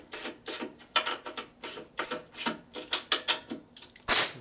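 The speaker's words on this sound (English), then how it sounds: "I'm going to go ahead and tighten up the main axle now." Ratchet tightening bolts on the brake of a 1965 Harley-Davidson panhead, a close series of sharp clicking bursts in an uneven rhythm, with one louder clack near the end and no voices.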